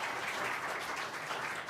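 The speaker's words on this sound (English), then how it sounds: "Would you please clap your hands for her?" An audience claps for a presenter at a live online event, a dense, steady burst of many hands sounding moderately close and even throughout, with no talking.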